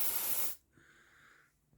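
A short, loud burst of aerosol spray hissing during a smoke detector test on a GENT Vigilon fire alarm system, cutting off sharply and followed by a faint electronic tone.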